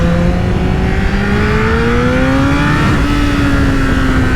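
A Honda CBR1000RR Fireblade SC59 superbike engine revs loudly and continuously close by, its pitch climbing steadily through the clip as the rpm rises.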